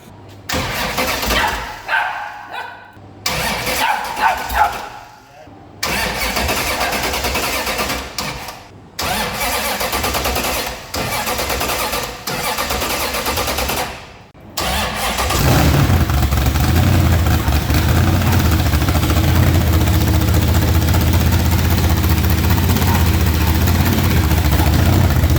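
A burnout car's engine cranks in several loud bursts with stops between, then catches and settles into a steady, heavy rumbling idle; dogs bark faintly at one point.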